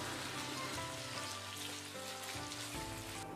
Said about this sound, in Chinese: 把它翻炒均匀。